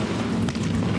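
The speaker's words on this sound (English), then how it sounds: "Flycam amongst the fireworks that are exploding above Premier Speedway now" Fireworks burst above a speedway during a sprint car championship feature night, heard as a steady loud rumbling roar with booming bursts blending together.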